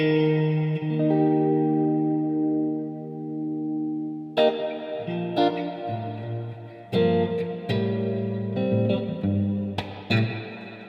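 An electric guitar played through a Mad Professor effects pedal rings out in sustained, reverb-tailed chords, then a series of sharper strummed and picked chords with lingering decay, heard alone without talking.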